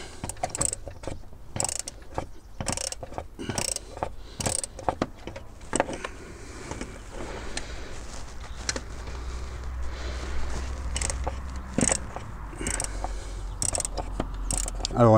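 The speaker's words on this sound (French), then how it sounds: "Et là, on peut desserrer notre sonde" A ratchet loosens the oil pressure sensor on a HEMI engine, making a quiet run of rapid, irregular metallic clicks and ticks close by, with faint background noise between bursts.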